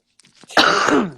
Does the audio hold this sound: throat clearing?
yes